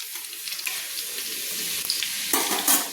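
Half a spoon of chopped garlic and some ginger fry in hot oil for street-style veg chowmein while being stirred. A bright, hissing sizzle is heard up close, with scraping stirs that grow louder near the end.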